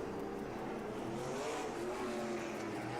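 NASCAR Pinty's Series race cars run a race at Riverside International Speedway, a steady, dense engine roar that holds at an even level throughout, with no clear pass-by.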